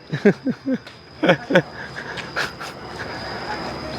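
Dog panting on a roadside walking detour past roadworks in Thailand, several short rhythmic huffs close by in the first seconds, then fading into a steady murmur of street background.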